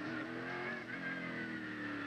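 Trans-Am race cars at a 1990 SCCA race in Des Moines, Iowa, pass through the pit area with a continuous engine drone and whine, distant and fairly faint, with no talk.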